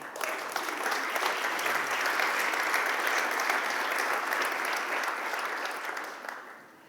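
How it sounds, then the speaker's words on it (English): An audience at a fintech company's market launch event applauds a legal team with a dense, steady round of clapping that holds for several seconds and then tapers off. "just let's applaud them"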